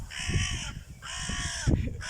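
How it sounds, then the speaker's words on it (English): Crows caw overhead in a garden, with several loud, harsh, drawn-out calls overlapping in quick succession and faint low rumbling beneath. "Crows flying overhead."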